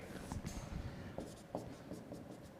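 A chemical reaction being written on a board during a chemistry lecture on chemical equilibrium, with faint, close scratchy strokes and short taps in quick succession and no talk.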